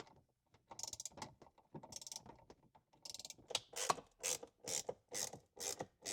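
A ratchet clicks as bolts are loosened on a C5 Corvette console, short bursts of close, quiet rapid clicking, then a series of evenly spaced ratcheting strokes with pauses between them.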